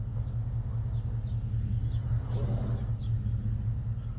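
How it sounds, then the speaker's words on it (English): A big old white pickup truck's engine rumbles steadily and close by, with a deep, continuous low drone and no voices over it. "that's Stella, and this is my big old white truck"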